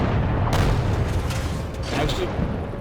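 A tank cannon fires in World of Tanks, one heavy booming shot followed by a rumbling tail and faint secondary blasts, with a voice talking over it.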